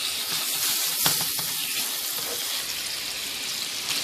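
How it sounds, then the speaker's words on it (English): Burger patties frying in butter in a pan, a steady loud hiss and crackle of sizzling fat with a few sharp pops, nothing else over it. "We're gonna add the burger to the pan."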